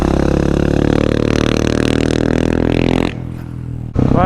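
KTM supermoto motorcycle, a 500 EXC-F or 690 SMC-R, holding a lean through a corner: a loud, close, steady engine drone that drops suddenly near the end, then briefly picks back up.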